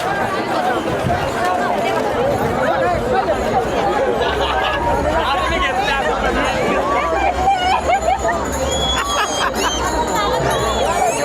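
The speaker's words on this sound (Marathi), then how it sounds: "एवढी गर्दी आहे ना" Pilgrims crowd the Sant Tukaram Maharaj palkhi procession between Pune and Loni Kalbhor, with steady dense chatter and babble of many voices all around, close and unbroken, and a nearby voice talking over it.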